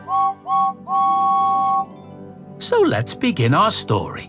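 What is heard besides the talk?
James the red engine's whistle, Thomas & Friends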